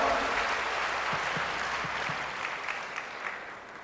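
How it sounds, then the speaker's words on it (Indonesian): Steady applause from an audience at a Buddhist Dhamma talk, a dense wash of clapping that holds for several seconds and slowly tapers off. "Silakan, tepuk tangan dong buat Romo Giri kita ya"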